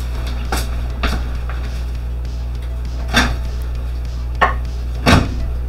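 A knife trims the bottoms of Brussels sprouts on a cutting board, with about half a dozen separate sharp knocks spaced irregularly over a steady low hum.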